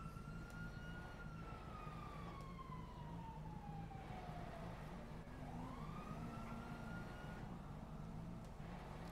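Faint wailing video-game police sirens rise and fall over a constant low rumble, with a second siren sweeping up partway through.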